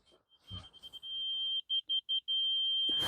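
A surveying level rod receiver gives off a steady high-pitched electronic tone that breaks into rapid, evenly spaced beeps and then holds a solid tone again. Brief rustling and handling noise come first, and a clunk sounds at the end.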